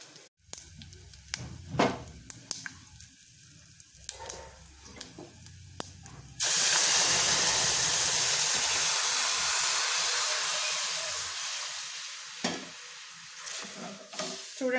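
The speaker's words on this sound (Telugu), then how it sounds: "మనము చింతపండు చారు బాగా కాగిపోయిన తర్వాత అండి మనం వడకట్టుకోవాలి" Boiled tamarind rasam poured through a strainer makes a broad, steady hiss of running liquid for several seconds, bracketed by scattered clinks and handling knocks.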